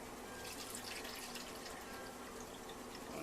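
Water runs steadily into a bowl, a continuous splashing trickle that stays even and close for a few seconds.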